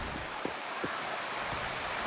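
Steady broadband rush of a waterfall in the game Wuthering Waves, a continuous even roar of falling water with a few faint low thumps, no voices.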